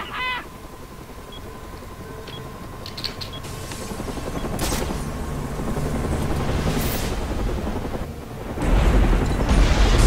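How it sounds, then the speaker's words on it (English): Fireworks explode in the video game Batman: Arkham Origins, heard as a series of bursts, crackles and whistling rises over a continuous rumbling game background that swells louder near the end. "Who guessed the fireworks are going off early?"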